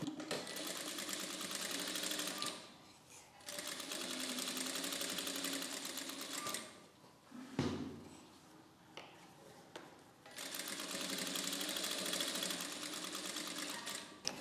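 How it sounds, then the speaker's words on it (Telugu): A sewing machine stitches a dress sleeve in fast, buzzing runs, stopping in short pauses between stretches of stitching and then starting again, close and clear. "ఇలా రెండవ హాఫ్ని స్టిచ్ చేసుకునేటప్పుడు మరలా ఈ హ్యాండ్ పీస్ని ఇలా సరి చేసుకోవాలి."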